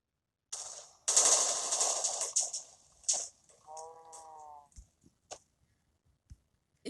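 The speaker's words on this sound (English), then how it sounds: "when it explodes, as in my clip, it is a very big explosion" Missile explosions in Minecraft Bedrock Edition, a burst of loud booming blasts followed by scattered sharper cracks and pops that fade into sparse, quieter hits, with a brief animal-like call partway through.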